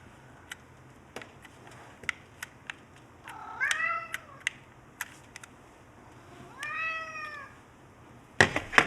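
A cat meows twice, each meow a drawn-out, rising-and-falling call a few seconds apart, over scattered ticking clicks in a quiet indoor workspace, with a clatter at the end.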